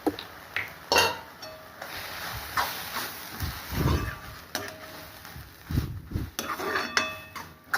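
Eggs cracked against a pan and poured in while making drumstick flower egg stir-fry: several sharp cracks and clinks with soft splashes, close and fairly loud, with no talk.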